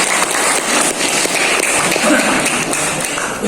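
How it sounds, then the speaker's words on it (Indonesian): A large crowd of around 300 people at a coordinating-group gathering in Bandung applauds, a dense, steady wash of clapping that holds at full strength throughout. "tepuk tangan buat Jalan Sarupa"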